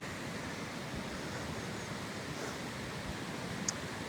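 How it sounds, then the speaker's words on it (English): A swollen brook after Storm Chandra rushes past, with high water pouring over a weir as a steady, dense roar close by, with no voices. "The water flow's phenomenal, isn't it?"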